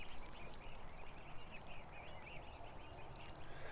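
Ducks quack softly and repeatedly all around, a faint, scattered chatter of calls close by with no talking.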